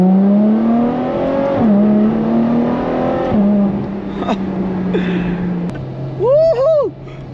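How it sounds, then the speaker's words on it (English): A Ferrari F12 TDF's V12 climbs hard through several gears on a straight country lane, each rising howl dropping at the next upshift, loud and close from inside the cabin, with a voice whooping at the end. "Straight? Okay, let's give it a go."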